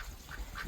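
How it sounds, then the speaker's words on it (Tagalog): A domestic duck on a fruit farm in the Philippines gives two quick, nasal quacks close by, with a low rumble of background noise underneath. "May alaga silang pato."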